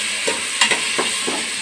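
Onions frying in a pan until browned, a steady close sizzle with a few soft stirring scrapes and knocks spaced through it, no voices.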